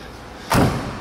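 A 1972 Chevelle car door, on a rust-free Texas car with a vinyl top, shuts with a single solid, close slam that fades into a short low rumble.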